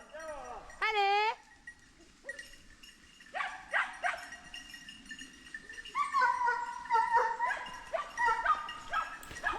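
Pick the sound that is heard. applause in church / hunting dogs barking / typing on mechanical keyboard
hunting dogs barking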